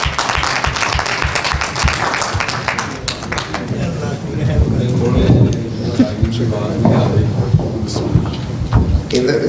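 Audience applause welcoming Mr. Latif Khosa onstage at a gathering of overseas Pakistanis, broad steady clapping mixed with crowd noise and voices, loud and sustained throughout.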